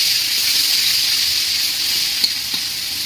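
Garlic fries in hot oil in a wok in a home kitchen, a steady close sizzle with a couple of faint stirring taps and no talk.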